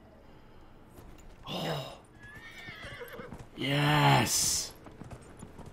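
A horse in Dragon Age Inquisition gives a loud, drawn-out whinny near the end, with faint hoofbeats and excited exclamations from a person around it.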